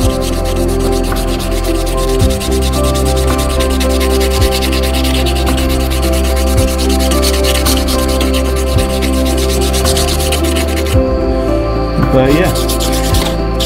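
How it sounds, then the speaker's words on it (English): Hand sanding wooden knife scales, a continuous loud scratchy rubbing of abrasive on wood in steady back-and-forth strokes, with a brief spoken phrase near the start. "And when you're hand sanding,"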